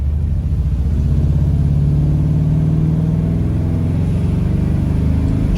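A 1975 Chevrolet Suburban restomod drives at speed, its engine a steady, loud low rumble with a faint rising drone and no voices over it.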